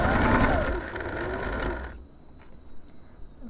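A domestic sewing machine stitches fabric bunting in a fast, even whirring run for about two seconds before stopping. A few faint clicks and handling noises follow in the quiet.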